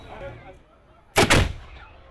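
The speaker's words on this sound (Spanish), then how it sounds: "Como indica el cañonazo sobre el valle de Sarajevo justo cuando se pone el sol" Cannon fired over the Sarajevo valley at sunset to mark the end of the daily Ramadan fast, a single loud booming blast with a short echoing tail after a quiet stretch.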